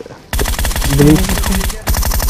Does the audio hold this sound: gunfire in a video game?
yes